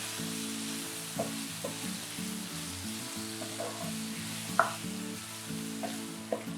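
Brinjal and tomato saute in a pan for a Muslim-style kathirikai gravy, a soft steady sizzle with occasional scraping stirs and light clinks, fairly quiet and with no talking.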